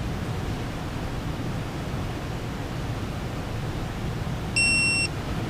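A digital torque wrench gives a single steady electronic beep lasting about half a second as a differential bolt is tightened on a car, sounding over a constant hiss of background noise.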